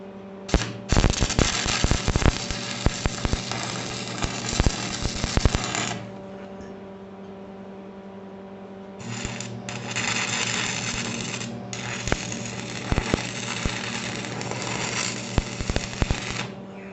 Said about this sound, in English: so I'm going to keep on welding.